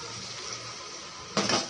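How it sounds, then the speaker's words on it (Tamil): Water poured into a pot of mutton gravy on a kitchen stove, a short burst of splashing near the end after a quiet stretch of low hum. "இப்போ இதில் தேவையான அளவு தண்ணி ஊற்றிப்போம்."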